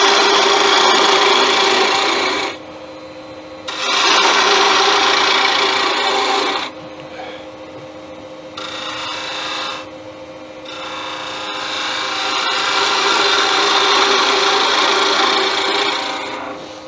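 A gouge cuts wood on a lathe while turning a corkscrew from a kit, giving loud, close rasping scrapes in long bursts broken by a few short pauses.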